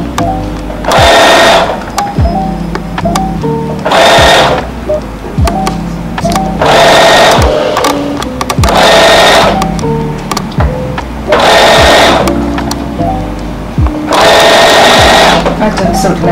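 A sewing machine stitches binding onto a fabric slipper in six loud, close bursts of steady whirring, each a second or so long, separated by short pauses while someone talks between and over the runs.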